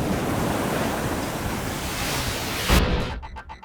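Ocean swells and surf wash steadily at a cross-sea bridge construction site at sea, a broad continuous roar with wind across the microphone, ending in a louder surge before easing.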